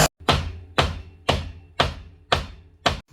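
A hammer strikes an old wooden window frame being broken apart, six sharp, evenly spaced blows roughly every half second, loud and close with no talking.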